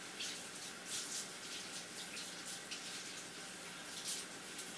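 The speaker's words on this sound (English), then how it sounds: "I want to rinse this just a little bit so I can start on my other one." Water running steadily from a tap while something is briefly rinsed, a soft continuous hiss with slight splashing swells, fairly quiet and close.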